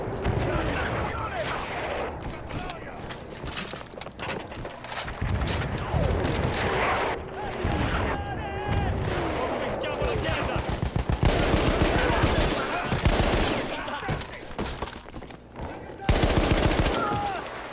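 Rapid gunfire from a weapon in the video game Battlefield 1, with dense bursts of automatic shots and heavy impacts rattling almost continuously at close range.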